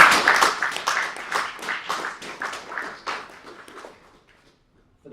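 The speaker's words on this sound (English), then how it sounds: "Let's just give a round of applause for Creative Hands Foundation." Audience applause at a celebratory exhibition event for the Creative Hands Foundation, a dense burst of clapping that is loud at first, then thins and fades away to silence by the end.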